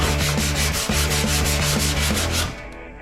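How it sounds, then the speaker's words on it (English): Steady rhythmic sanding scrapes across a Land Cruiser 60 Series bonnet, a sander or block grinding back and forth before the sound drops away. "For someone that doesn't like sanding, you seem to be pretty good at it."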